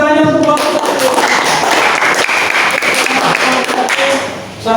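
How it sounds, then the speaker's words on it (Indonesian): A classroom audience applauds a student group after their presentation, with dense, loud clapping that carries steadily for about four seconds and then fades out. "mana tepuk tangannya untuk kelompok 1?"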